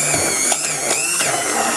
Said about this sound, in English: I'm going to use my little hand blender and mix it all up.